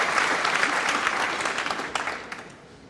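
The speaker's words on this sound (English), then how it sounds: "He deserves a round of applause." Spectators at a professional snooker match between Trump and Brecel give a round of applause for the referee, close and even clapping that gradually thins and fades toward the end.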